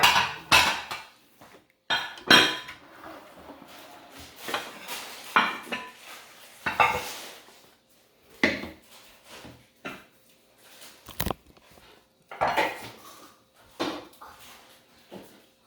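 Short bulgogi short ribs and shrimp being served onto plates with utensils, giving irregular clinks and scrapes of metal on dishes, close and moderately loud, in scattered bursts with quiet gaps.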